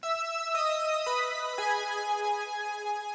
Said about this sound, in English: we have another one of these synth fills that is playing an extra melody